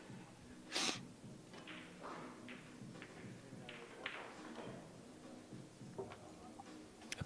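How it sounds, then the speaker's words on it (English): A pool commentator sneezes sharply into a live microphone during a women's world 9-ball championship broadcast, one loud burst near the start followed by faint clicks and small thumps from the table area. "I had a sneeze coming and couldn't find the mute button."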